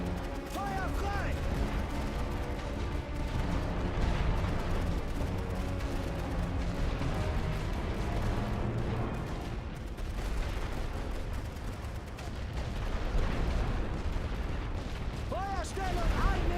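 Video game artillery fire: dense, sustained booming barrages and crackling gunfire roll on without pause, loud and continuous, with voices shouting orders over the battle.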